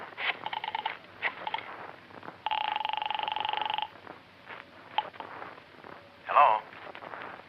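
Telephone being dialed as a sound effect in the old-time radio drama Yours Truly Johnny Dollar, a steady buzzing tone lasting over a second amid clicks, mechanical whirs and a brief voice.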